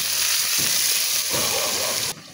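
String beans sizzling in a hot pan as soy sauce goes in for adobong sitaw; loud, close frying hiss with bursts of crackle, then a sudden drop as the pan is covered.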